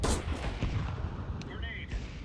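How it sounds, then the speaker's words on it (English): A grenade blast in the Counter-Strike 2 video game, a short loud boom at the start followed by a rumbling low tail and scattered gunfire-like crackle, with voices faintly present. "Throwing a grenade."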